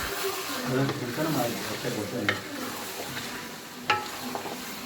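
Beef karahi meat, with a splash of stock added, is stir-fried in a pan, giving a steady close sizzle with scraping stirs and a couple of sharp knocks, while a voice talks over it.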